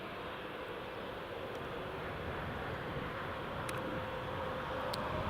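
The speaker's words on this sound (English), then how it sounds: "And EasyJet Neo is just departing now as well." An EasyJet Airbus A320neo airliner departs Newcastle International Airport, its engines a steady, broad jet roar that holds level and unbroken throughout, heard from some distance.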